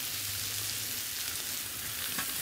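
Pork and vegetables fry on a Blackstone griddle turned to high, a loud steady hiss and crackle filling the whole moment with no voices over it.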